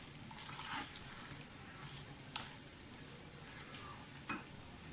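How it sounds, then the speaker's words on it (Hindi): Mongray and potatoes fry in a pan, a soft steady sizzle with a few sharp scraping stirs at intervals, close but fairly quiet, with no voices. "भुनाई कर लें अच्छी तरह से दोनों चीज़ों की।"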